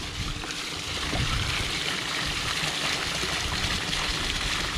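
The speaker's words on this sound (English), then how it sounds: "I've got the waterfall running" An Intex Easy-Set pool waterfall feature runs, a steady trickling and splashing of water, continuous and fairly close with no talk.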